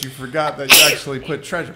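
A single sharp sneeze bursts out mid-conversation, close and loud, with people talking just before and after it.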